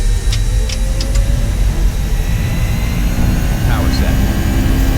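JarDesign Airbus A320 in X-Plane flight simulator, engines at full throttle for takeoff at Copenhagen, a loud continuous roar with a rising whine and heavy low rumble, a voice briefly heard underneath.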